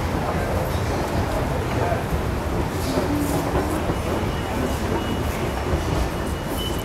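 A Kolkata metro train running underground, with a steady, loud rumble of wheels and carriage noise filling the whole stretch, light rail clatter and faint voices of passengers in the car.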